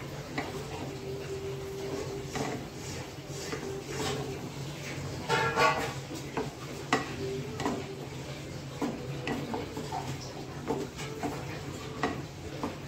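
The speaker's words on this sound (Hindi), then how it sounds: "इसको अच्छे से मिक्स करेंगे।" Spoon stirring turmeric, red chilli powder and homemade black masala into besan badi curry in a pan, a steady scraping and light sizzle running throughout with a few louder clinks midway.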